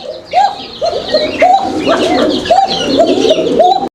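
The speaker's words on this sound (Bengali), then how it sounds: "এখানে চমৎকার আরও এক জোড়া কবুতর আছে" A pair of red tiger pigeons cooing nearby, loud repeated rolling coos overlapping in quick succession throughout, with faint chirps from other birds in the background.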